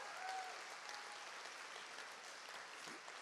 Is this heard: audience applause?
yes